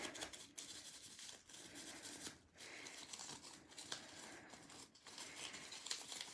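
A torn book page is crumpled and rubbed by hand, giving continuous close paper crinkling and scrunching with brief pauses. It is soft and there is no talking.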